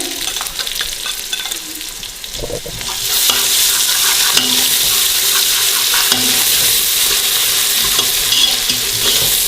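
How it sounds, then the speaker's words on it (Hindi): Ginger garlic paste hits hot oil with onions and erupts into loud, steady sizzling frying, with a few scrapes of stirring in the pan. "इसके अंदर अदरक लहसुन का पेस्ट डालेंगे।"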